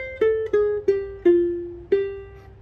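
Five plucked guitar notes ring out one after another at an unhurried pace, each decaying before the next, clear and close.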